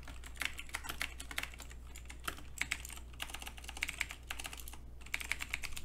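Fast, snappy typing on a computer keyboard while coding a JavaScript game, close-up clicks in quick irregular bursts with brief pauses, steady and fairly quiet, no voices.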